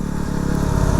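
Yamaha WR250R motorcycle engine fitted with a Rekluse EXP 3.0 auto clutch, a close, steady mid-pitched thrum that rises slightly in pitch over a short stretch.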